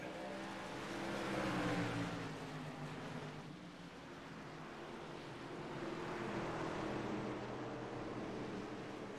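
Race trucks in a racing game lap North Wilkesboro Speedway, a steady blended engine roar that swells and fades as the pack passes, at moderate distance with no talk.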